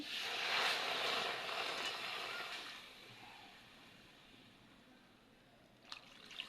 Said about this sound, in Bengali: এবার পরিমাণ মতো জল দিয়ে দিচ্ছি।